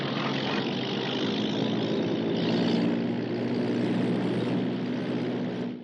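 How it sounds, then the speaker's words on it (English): A propeller pickup plane comes in to land, its steady engine drone loud and continuous with a low throbbing hum and broad wash of noise that swells slightly midway before easing off at the end. "That's a pickup plane."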